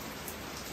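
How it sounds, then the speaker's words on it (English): Rainwater dripping on the roof of a single-wide home, heard as a dense, even hiss of patter that stays at a constant level through the short stretch. "Just a dripping."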